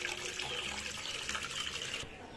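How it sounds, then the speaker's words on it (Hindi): Water being changed in a container holding turtles and fish, with a faint, steady pouring and splashing that stops abruptly near the end. "इस पानी को पहले हम चेंज करते हैं।"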